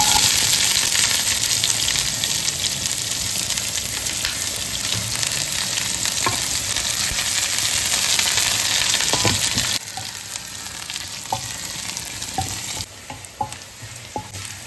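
Onion frying in hot oil with mustard seeds, dried red chilies and cumin, a steady loud sizzle with light stirring scrapes and a few faint clicks, the texture thinning slightly toward the end.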